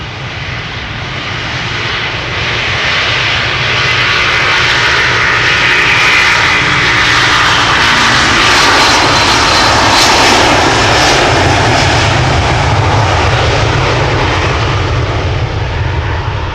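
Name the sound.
Delta Airbus A330 jet taking off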